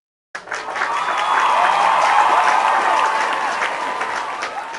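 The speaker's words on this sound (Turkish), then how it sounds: "vokallerimize bir alkış" An outdoor street-music crowd in a city square bursts into loud applause for the singers, starting abruptly and swelling into sustained, dense clapping, with faint voices mixed in.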